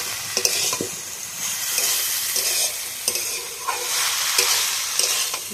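Banana stem and pumpkin with chili powder are stir-fried in a pan, giving a steady frying sizzle broken by repeated spatula scrapes and stirring knocks at moderate volume.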